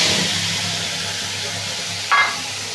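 Ground spice paste hits hot oil left from frying fish, with bay leaf and cumin already tempering, and sizzles loudly and steadily throughout, with a brief stir near the end.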